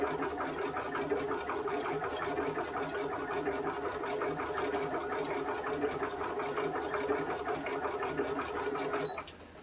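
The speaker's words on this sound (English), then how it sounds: "we're just going to let the machine do all the work" Sewing machine stitching a ruffled farmhouse-style tea towel, a steady fast continuous whirring hum with rapid needle clatter throughout, stopping abruptly near the end.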